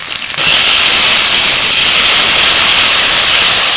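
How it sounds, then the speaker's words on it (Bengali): A loud, constant hiss of steam and sizzle rises as ginger-garlic paste, turmeric, cumin, red chilli powder and salt go into frying onions, with a brief quieter moment before it surges up and stays intense. "পেঁয়াজটা একটু ভাজা হলে দিয়ে দিচ্ছি আদা রসুন বাটা এক চামচ হলুদ গুঁড়ো জিরের গুঁড়ো লাল লঙ্কার গুঁড়ো আর দিচ্ছি লবণ"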